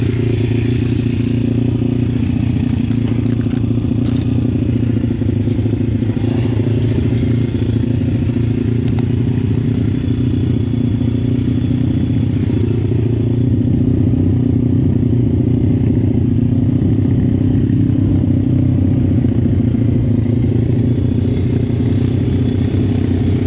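A PitGang 140XD pit bike engine runs steadily on its first start and ride, a loud continuous droning idle with mechanical clatter and slight throttle variations, close by and with no voices.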